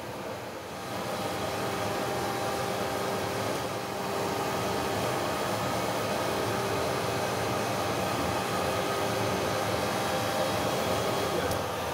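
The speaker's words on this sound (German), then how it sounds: "Das ist jetzt unsere Spaltmaschine." A leather splitting machine thinning leather to a set thickness, giving a steady, dense mechanical whir and hiss that runs unbroken and loud throughout.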